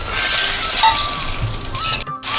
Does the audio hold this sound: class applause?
no